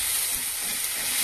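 A paste of mustard, poppy seed, green chilli, ginger and garlic frying for a fish curry and being stirred in the pan; a dense, loud, continuous hiss with faint scraping underneath, brief and without speech.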